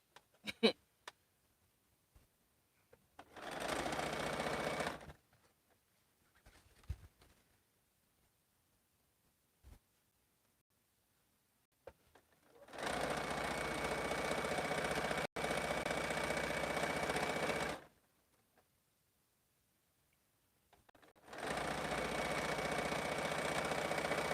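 Sewing machine stitching seams on a rag quilt, running in several sustained bursts of motor hum separated by quiet pauses, close and fairly steady.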